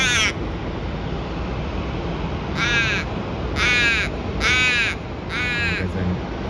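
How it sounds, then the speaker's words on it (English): A crow caws near a busy airport during plane spotting: five harsh, separate calls, one at the start and then four in an uneven run, loud over steady engine and wind rumble. "There's a crow nearby."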